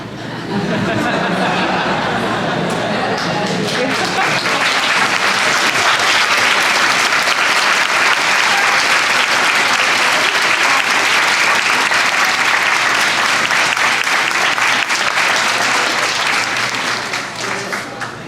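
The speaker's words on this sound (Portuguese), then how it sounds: "Que essas palmas sejam revertidas a vocês, de todo o meu coração." A large audience gives loud, sustained applause for over fifteen seconds, a thick uninterrupted roar of clapping with some chatter and light laughter mixed in before it dies away.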